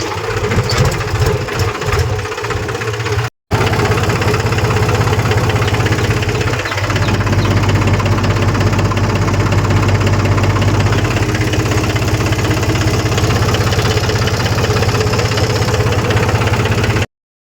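A tractor engine idles nearby on a village farm with a steady low chugging throb and vibration, briefly cutting out once before running on continuously.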